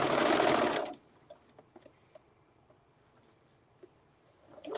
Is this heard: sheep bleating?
no